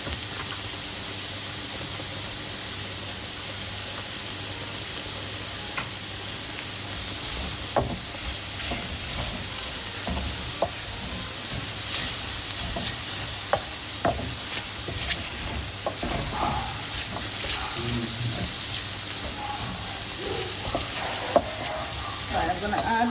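Flour cooking in ghee in a pan, a continuous close, fairly loud sizzle with occasional crackles and spoon scrapes running steadily throughout, no talking.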